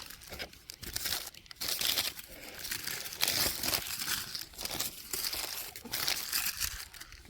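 Paper wrapping on a turkey and pepper jack sandwich crinkles and tears in repeated bursts as it is opened up close, loud rustling with brief pauses.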